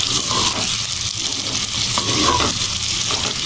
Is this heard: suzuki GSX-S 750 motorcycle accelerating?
no